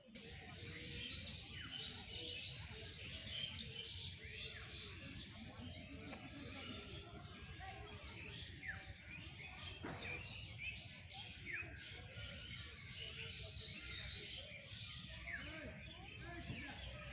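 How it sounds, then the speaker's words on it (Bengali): Birds chirp and tweet steadily through an outdoor nature scene, a dense layer of small calls running the whole time over a low background murmur. "পাখিদের কিচিরমিচির শব্দে অবশ্যই বুঝতে পারছেন"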